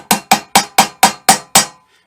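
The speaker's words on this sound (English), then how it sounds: "we're just going to start it with the light hammer" Seven sharp metallic taps from a light hammer striking a socket while fitting a U-joint, evenly spaced in a steady rhythm, close and fairly loud, then silence.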